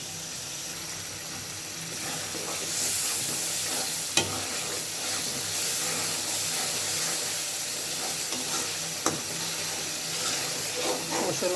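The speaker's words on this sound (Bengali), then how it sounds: "মশলাটা আমি ভালোভাবে কষিয়ে নিচ্ছি।" Spice masala sautéing in a pan for a katla fish dopeyaza, a steady dense sizzle with hissing steam and occasional soft stirring scrapes and taps.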